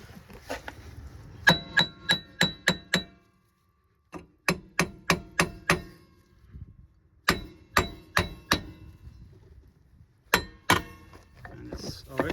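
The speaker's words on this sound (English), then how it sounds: "So you gotta give a couple taps and it's supposed to come out." A hammer gives quick groups of sharp metallic taps on a Toyota Venza wheel bearing assembly, in four bursts of five or six strikes each, close and loud, with short pauses between bursts.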